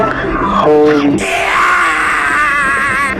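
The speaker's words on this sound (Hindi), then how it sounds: "जिसके बाद तो इनकी चीखें निकल जाती हैं।" A man lets out loud, drawn-out screams and wails after a dog grabs him, a harsh, strained cry that rises and wavers, close and intense.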